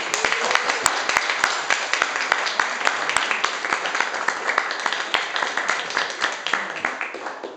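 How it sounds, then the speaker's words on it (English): An audience gives a sustained round of applause at a presentation event, with dense, lively clapping that holds steady and then thins slightly toward the end. "I hope you'll join me in giving them a huge round of applause"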